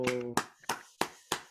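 A few sharp, separate hand claps at a church gathering, spaced about a third of a second apart, following a brief voice at the start.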